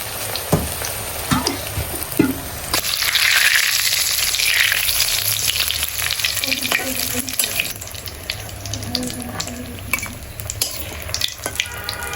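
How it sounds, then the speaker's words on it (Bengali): Eggplant chops fry in hot oil as a loud, continuous sizzle that flares up partway through, with occasional spatula scrapes and clinks against the pan. "এই যে এখন হচ্ছে রান্না বান্না শেষে বেগুন চপ ভাজা হবে।"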